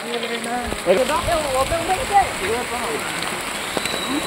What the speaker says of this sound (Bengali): বৃষ্টি আর বৃষ্টি, শুধুই বৃষ্টি হচ্ছে